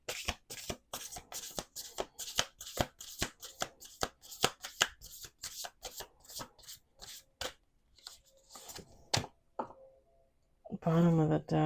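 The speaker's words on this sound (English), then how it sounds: "One last shuffle." Close, crisp riffle shuffling of oracle cards in quick repeated bursts, slowing to a few taps, then a short burst of voice at the end.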